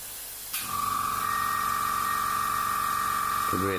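An Iwata Revolution M single-action airbrush sprays paint: a close, steady hiss with a thin whine that starts abruptly and runs without a break, over a low background hum.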